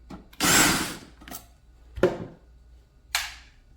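A Cuisinart K-cup coffee maker sits upside down while its bottom screws are removed, giving a few short, separate bursts of whirring and scraping at close range with quiet pauses between them.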